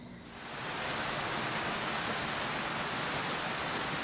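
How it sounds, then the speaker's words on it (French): Heavy rain pours down at a marina in a dense, steady roar that swells in the first half-second and then holds constant, close and loud. "réveil sous une pluie battante ce matin"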